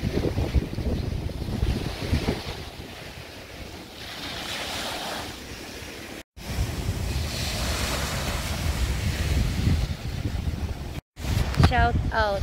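Sea waves washing in steadily at Puerto Azul beach in Ternate, Cavite, in the early morning, a continuous rushing surf with heavy wind buffeting the microphone and brief gaps.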